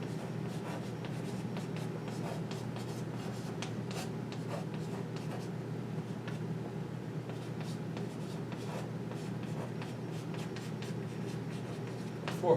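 Pen or marker writing out a slope calculation on a board or paper, a steady scratchy stroking sound with brief pauses, continuous and close over a constant low background hum.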